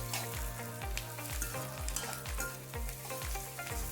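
Finely chopped cabbage being stir-fried with paneer chilli ingredients in a pan, a continuous sizzle broken by regular scraping stirs, with a steady rhythmic pattern and no talk.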